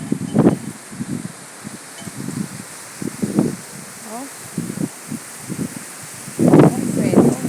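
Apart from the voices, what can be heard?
strong wind blowing through plants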